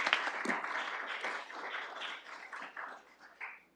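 Scattered clapping rises from the gallery of a city council committee meeting, a brief, uneven burst of hands that thins and fades over a few seconds, close and moderately loud.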